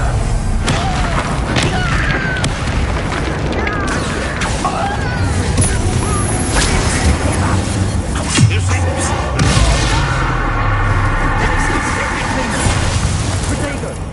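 Bombarda spell blasts in a wizard video game, repeated booming crashes and bursts amid busy battle effects and a continuous voice talking over the action.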